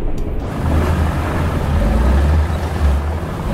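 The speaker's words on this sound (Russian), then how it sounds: "Ребят, да это его двигатель гудит. Это не 55-ки, это его движок." Tank engine in War Thunder, a steady low droning hum that holds loud and continuous throughout, with the rumble swelling slightly near the middle.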